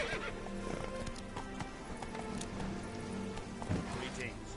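Roach the horse from The Witcher 3 gallops with a steady clip-clop of hooves and lets out a sharp whinny near the end, close and loud over game music and ambience.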